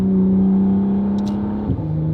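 A McLaren Artura fitted with a Valvetronic Designs free-flow race exhaust, a loud, close engine drone that holds steady and then eases off, with no talking.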